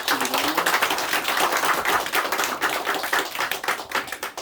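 A church congregation at a Sunday morning service claps together in loud, fast, lively applause, a dense crackle of many hands close to the microphone.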